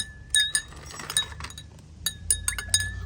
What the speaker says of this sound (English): Yep, now stir this one until there's no more green.